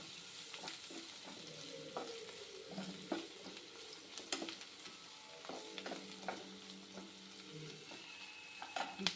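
Ginger and garlic fry in a pan for a vegetarian dish, a steady soft sizzle broken by frequent clinks and scrapes of a spoon stirring, with no voices.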